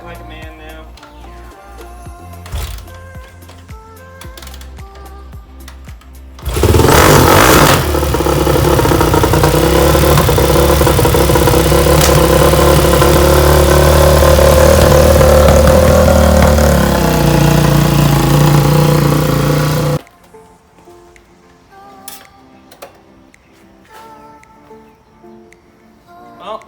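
A kick-started engine on a Jet Ski, a JS440, catches and runs loud and close for about thirteen seconds, a steady idling drone, then cuts off abruptly, leaving quieter background.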